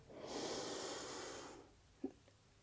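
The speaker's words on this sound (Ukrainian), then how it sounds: "Випускаємо все повітря з живота." A long, deep exhale during a home back and posture workout, a steady breathy rush lasting over a second, followed by a brief soft sniff or snort near the end; close and alone, with no talk.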